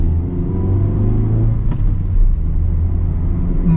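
Steady road rumble and engine drone inside a Mazda 2 cruising at 80 km/h, a continuous low hum with no voices.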